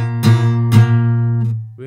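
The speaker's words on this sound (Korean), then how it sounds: "똑같이 이렇게 잡았는데 왜 제 기타는 이런 소리가 나요?" A guitar chord is struck twice in quick succession with unwanted extra strings ringing along, giving a harsh, buzzy, unpleasant tone, followed by a faint third touch and a new onset at the very end, close and loud with no speech.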